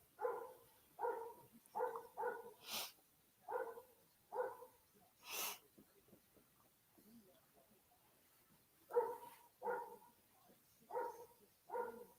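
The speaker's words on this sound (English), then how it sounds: "that's one of my neighbor's dogs barking." A neighbor's dog barks repeatedly at a moderate distance, with clusters of sharp barks, a pause, then another burst, and no talking over it.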